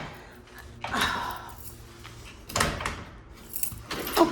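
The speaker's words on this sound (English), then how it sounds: "Louvered doors that don't really want to open." Stiff louvered doors in a ranch-style house are pushed open in a few bursts, each a short rattling clatter of wooden slats, with quieter gaps between.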